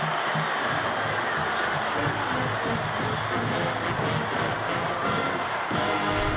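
A stadium crowd at a 2011 Iowa at Minnesota college football game roars after an onside kick recovery. The dense, loud cheering continues without a break for the whole stretch.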